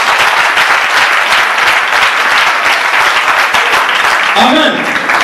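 A church congregation at a Sunday service claps and cheers in sustained, dense applause that fills the whole stretch, loud and close, with voices mixed into the crowd noise.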